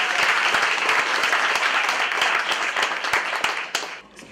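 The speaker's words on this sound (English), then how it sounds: "can y'all get a round of applause for yourselves?" An audience at a spoken-word poetry event applauds itself, a dense round of clapping that holds steady, then thins out to a few last claps and fades.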